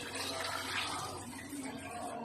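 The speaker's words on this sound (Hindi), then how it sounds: "इसको मिक्स करके अब इसमें पानी डाल देते हैं।" Water pours steadily into a cooking pot of meat and spices, giving a continuous close splashing rush that fades a little toward the end.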